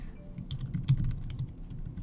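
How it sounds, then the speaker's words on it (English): Quiet typing on a computer keyboard while an app is built in Thunkable, with a run of light, irregular key clicks close to the mic and no talk. "you can see I can type whatever I want here."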